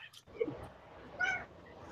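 A cat gives two short meows indoors, the first brief and the second a higher, drawn-out cry, faint and close in a quiet room.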